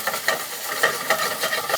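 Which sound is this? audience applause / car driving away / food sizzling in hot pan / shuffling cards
food sizzling in hot pan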